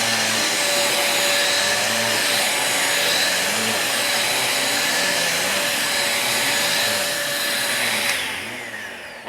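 A second-hand vacuum cleaner running steadily and loudly with a constant whine and broadband roar for several seconds, then dropping slightly near the end, with no talking.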